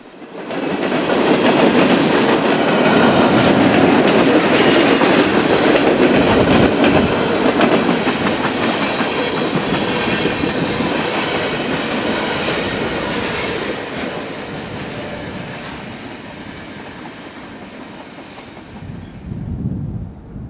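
An Indiana Harbor Belt freight train led by RP-15 BDF 1508 and GP-40-2 4017 rolls past near Gary, Indiana, with loud sustained rumble and clattering wheels that fade gradually, then swell briefly at the end.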